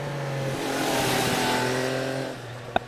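Triumph Trident 800 motorcycle engine under way, a steady droning hum with harmonic tones that rise slightly and hold, then fall away, ending in a brief sharp click.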